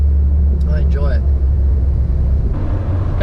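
Steady low engine and road drone inside a daily-driven BMW E30 318is with a light clutch and about 230,000 km, continuous throughout, with a voice briefly talking over it.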